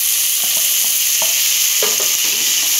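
Onions fry in a pan with a constant bright sizzle and a few light stirring taps and scrapes, close and fairly loud, without any speech.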